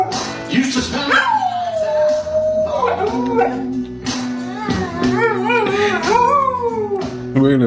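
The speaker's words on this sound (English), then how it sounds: "This dog is actually funny. Is he really trying to sing?" A dog howls in long, rising and falling tones as if singing, with yips and whimpers mixed in, loud and close throughout.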